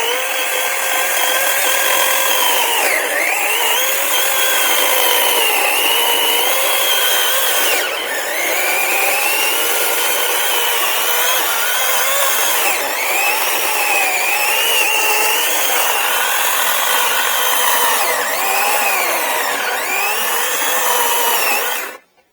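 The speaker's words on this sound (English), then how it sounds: "let's see how we do on some cuts" GreenWorks Pro 18-inch cordless battery-powered chainsaw cutting through wood, a steady high whine with the pitch dipping and rising as the chain bites and frees, loud and continuous for over twenty seconds before stopping abruptly.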